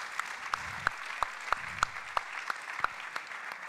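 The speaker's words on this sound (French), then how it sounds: "vous pouvez l'applaudir et la soutenir par vos applaudissements" Applause at a public debate on republican values, heard as sparse, distinct claps at a fairly even pace over a quiet background, moderately distant rather than a full roaring crowd.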